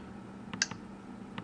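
Two sharp computer mouse clicks, near and fairly quiet, land about a second apart over a low steady hum while the OK button is pressed during a network setup screen.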